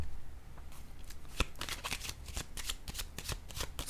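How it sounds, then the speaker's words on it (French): Tarot cards are shuffled and laid down, a soft flurry of quick riffling and card taps close by with one sharper slap, fairly quiet and without speech. "Je vais déposer une carte sur le voyage"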